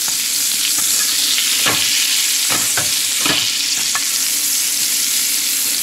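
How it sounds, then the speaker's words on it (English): Butter melting and sizzling in a pan, a loud, steady crackling hiss with a few sharp stir clicks from a plastic spoon scattered through it and no voices. "so just let the butter melt down"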